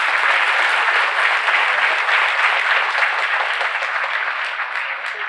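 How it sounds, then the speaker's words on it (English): Sustained applause from a large lecture-hall audience at IIT Madras, dense and steady clapping that holds at full strength for several seconds and eases only slightly at the end, with no voices over it. "A huge round of applause"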